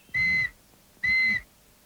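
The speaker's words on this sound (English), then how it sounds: "If Constable Knapweed caught a criminal every time he blew his whistle, there'd be nowhere to put them all." A police constable's whistle in a cartoon, two short, shrill, clear blasts in quick succession, loud and alone with no talking.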